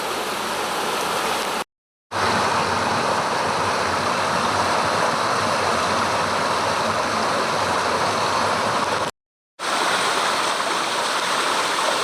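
Steady rushing water of Mill Creek on the Mason-Dixon Trail, full and continuous, with two brief dropouts to silence along the way.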